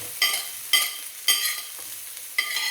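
Diced carrot and celery sautéing in a pan, a soft sizzle with four or five distinct stirring scrapes spaced about half a second apart, close and clear with no talking.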